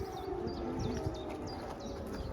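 An air raid siren sounds steadily in the distance in Ukraine, a sustained tone holding throughout while birds chirp repeatedly nearby.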